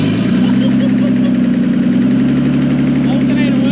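The engine of a missile car drift build catches and fires up, settling quickly into a loud, close, steady idle rumble that holds throughout.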